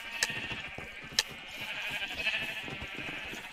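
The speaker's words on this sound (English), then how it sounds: "Sheep. Sheepy, sheepy, sheepy." Sheep in the Minecraft video game bleat faintly a few times against a steady game soundscape, with no speech over it.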